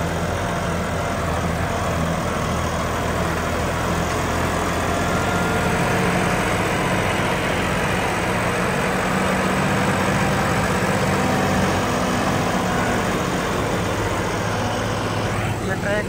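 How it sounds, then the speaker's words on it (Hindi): A John Deere tractor engine labouring under heavy load in the field, running steady and loud throughout with a deep continuous drone as the RPM sags and it bogs down, with no voices. "ट्रैक्टर बहुत ज़्यादा RPM स्लो कर गया, बहुत ज़्यादा दब रहा है ट्रैक्टर, उठ नहीं रहा बिल्कुल"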